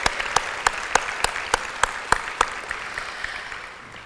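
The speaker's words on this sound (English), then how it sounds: "Just a big round of applause" Graduates at a 2014 community college commencement give a round of applause, a broad crowd clapping with a few sharp, loud individual claps standing out in a regular beat before the sound slowly fades.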